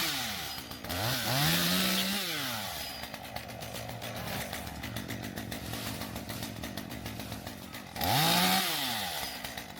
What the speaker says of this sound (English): when you're using the chainsaw